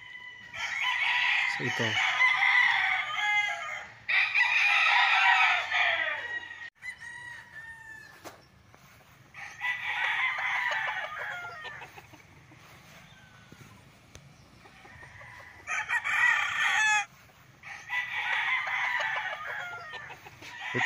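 Gamefowl roosters crow repeatedly at a game farm in Liliw, Laguna, beside a small training cockpit. Several long, loud crows follow one another, with a brief voice in between.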